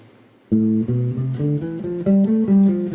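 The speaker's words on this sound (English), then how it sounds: "That is the sound of the natural minor scale." A natural minor scale rises note by note, about eight clear tones played evenly on an instrument with no voices.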